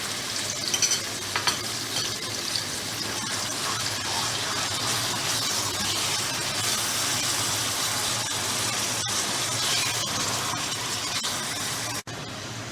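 Beef keema fries with ginger garlic paste in a pan, a steady close sizzle with bursts of stirring and a sharp clatter near the end, no talk.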